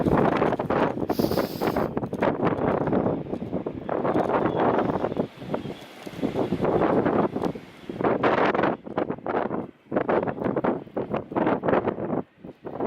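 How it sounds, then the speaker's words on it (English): Strong gusty wind buffeting the microphone on the Windeck Castle hilltop, loud roaring bursts with short lulls between, no talking. "It is super windy up here today."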